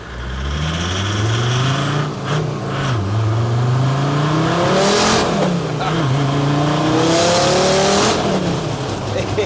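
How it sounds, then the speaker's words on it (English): A Land Rover Series 1 sleeper fitted with an OM605 turbo diesel making about 435 bhp accelerates hard, its engine note climbing through rising gear pulls with brief dips at the shifts, loud and close throughout with a voice faintly underneath. "I can do a spirited acceleration so you get an idea of the feeling of this vehicle."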